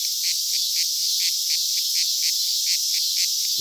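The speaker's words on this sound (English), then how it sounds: "Pa, I thought you said you killed all the cicadas." Cicadas buzzing as a film sound effect, a high shrill insect drone with steady pulsing beats, continuous and fairly loud, with no other sounds.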